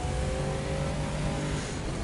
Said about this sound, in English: 1930 Ford model vehicle.